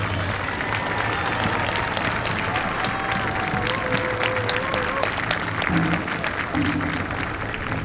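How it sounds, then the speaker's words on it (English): A large crowd at a service tribute applauds steadily and loudly throughout, a thick continuous wash of clapping with a few tonal sounds over it. "join us in a warm, thunderous round of applause as we say thank you for their service and sacrifice"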